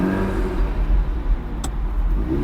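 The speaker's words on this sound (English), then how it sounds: "driving the Ferrari Mondial" A 1983 Ferrari Mondial QV engine drones steadily while driving, a deep, loud continuous rumble heard from inside the car, with no talking.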